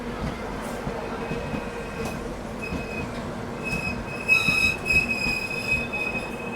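Passenger train rolling past on the Konkan Railway, a steady rumble of wheels on track with high metallic squeals rising and swelling toward the end, close and continuous.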